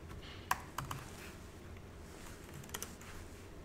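Scattered keystrokes on a computer keyboard while writing code, a few sharp taps and short clusters over a quiet room hum, no voice.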